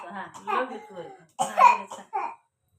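Coughing breaks into a casual conversation at home: short, rough coughs mixed with nearby voices, some close to laughter.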